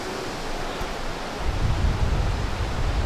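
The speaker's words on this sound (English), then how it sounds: "it's very, very windy" Strong wind blows at a cliff over Lake Superior, a broad roaring rush against an external mic that swells and turns gustier partway through, with no talking.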